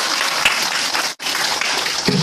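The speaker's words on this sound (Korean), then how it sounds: "우리 열심히 해주면 모든 친구에게 박수 부탁드리겠습니다" A group of parents and students applauds at a Haedong Kumdo grading held at a dojang, a sustained round of clapping with a brief dip in the middle before it picks back up.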